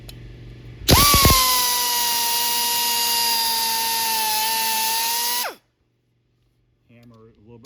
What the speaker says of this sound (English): I'm just gonna make another cut right through both of them.